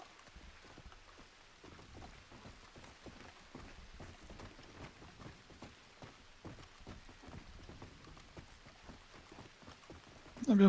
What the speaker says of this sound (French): parce que là, il pleut